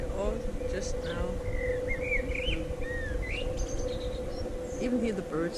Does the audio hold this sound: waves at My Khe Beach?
no